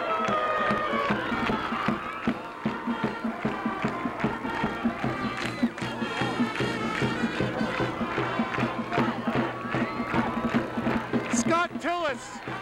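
A home crowd at a 1996 Rye Garnets high school football game against the Harrison Huskies roars and cheers after a touchdown, loud and continuous, while an announcer talks over it.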